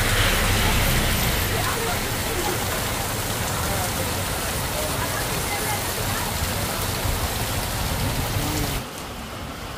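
Heavy monsoon rain pouring down in Andhra Pradesh, a loud dense roar of drops on surfaces that holds steady before dropping off abruptly near the end; a voice may sit faintly beneath it.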